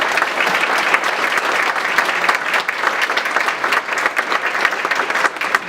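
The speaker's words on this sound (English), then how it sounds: "Please give him a round of applause." An audience gives a county commissioner a steady round of applause at a morning gathering; loud, dense clapping continues throughout without talk.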